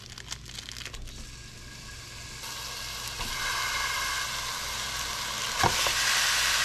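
85/15 hamburger meat sizzling and frying in a pan: a steady bright hiss that grows louder over time, with occasional stirring scrapes and crackles and no talking.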